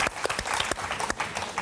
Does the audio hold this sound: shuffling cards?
no